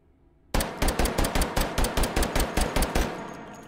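A G41 pistol fitted with a stock and muzzle brake fires in H3VR: about a dozen loud, closely spaced shots in a rapid, even rhythm after a quiet start, then a brief fading tail.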